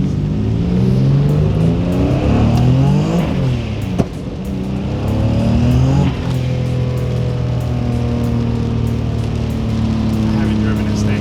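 A 700 hp Infiniti G35 revs hard and pulls away, its engine note climbing and dropping through gear changes, loud and close throughout, with voices heard faintly under the engine.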